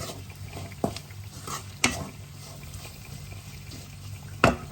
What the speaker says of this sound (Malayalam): ഇനി നമ്മളിത് ആ ബീഫിൻ്റെ ചട്ടിക്കകത്തോടെ നമ്മൾ ഇട്ട് കൊടുത്ത് ഇളക്കാം